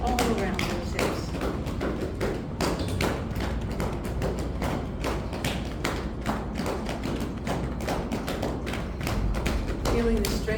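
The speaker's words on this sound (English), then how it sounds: "As we start knocking on the hips to work on the lower body, all around those hips." Rhythmic hand knocking on the hips during a qi gong session, a steady run of soft, dense thumps and taps that continues throughout at a fairly loud level.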